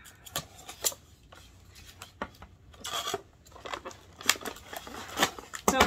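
Scissors snipping and cutting open the plastic blister packaging of a Greenlight die-cast toy gas pump, with irregular crinkles, scrapes and clicks close by and no talking.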